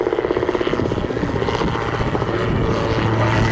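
A two-blade teetering-rotor autogyro flying at the Southport Airshow, its rotor giving a rapid, pulsing chop over a loud droning engine, steady and fairly close throughout.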